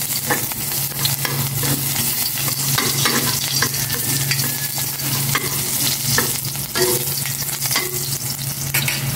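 Garlic sautéing in hot cooking oil while being stirred: a loud, continuous close-up sizzle broken by repeated scraping stirs of the spoon against the pan.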